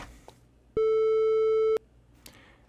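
A square wave oscillator in ChucK set to 880 Hz sounds as a loud, buzzy, perfectly steady tone lasting about a second, starting and stopping abruptly between quieter background noise.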